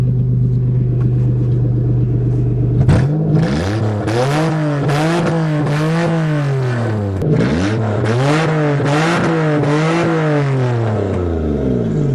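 A Toyota with a manual gearbox revs repeatedly on a farm driving lesson, engine note rising and falling in several swelling pulls after a sharp start, loud and close, no voices.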